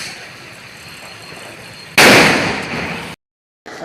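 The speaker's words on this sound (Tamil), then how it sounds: "படத்துல வெடிக்கிற மாதிரி பாம்பு அடிக்கிற மாதிரி வெடிச்சிருச்சு" A Diwali firecracker bursts once with a loud, sharp blast, nearby, and its roar decays over about a second before a brief silence and some fainter background noise return.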